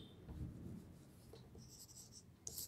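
Chalk or a marker scratches across a classroom board in short, faint, close strokes, with soft taps between them and no talk.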